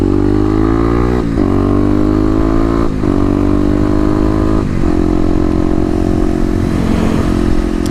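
A 2018 Kawasaki KLX250 dirt bike fitted with stage 1 mods and a KDX snorkel, its engine revving loud and close as it accelerates through several gear changes on a ride.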